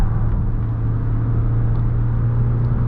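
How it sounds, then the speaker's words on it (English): Cabin of a 2025 Mazda CX-70 PHEV Premium Plus accelerating on the highway on combined electric and gasoline power, a loud, steady low drone of engine and road rumble with no voices. "getting up to speed on the highway, it's using both EV and gas power"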